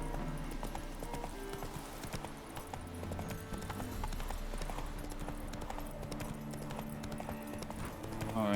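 A horse's hooves clip-clop as it is ridden in The Witcher 3: Wild Hunt on PS5, the steady trotting beat sitting under music and ambient game sound.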